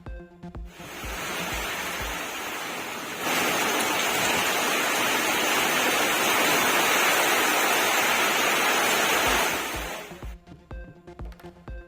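Heavy rain driven by strong wind in Chennai roars as a dense, steady wash of noise, loud and close, swelling slightly midway before cutting off, with a rhythmic musical pulse framing it.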